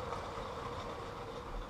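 An Emerald Night toy train fitted with a 9v motor reverses along its track, giving a faint, steady rolling rumble with light wheel rattle and no talk.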